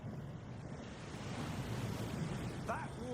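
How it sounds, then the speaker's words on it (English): Steady rushing waterfall in the Hogwarts Legacy video game, a broad continuous wash of falling water, fairly loud and constant throughout with no talk over it. "That waterfall washes away all enchantments."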